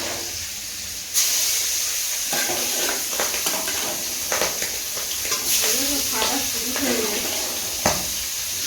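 Hot oil hisses and spatters steadily while catfish (magur) cooks in a pan, with a sharp burst of sizzle early on, as people talk nearby over the frying.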